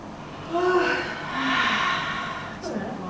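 A person yawns deeply during a relaxation exercise, with long breathy drawn-out yawning sounds and an exhale, fairly close and clear.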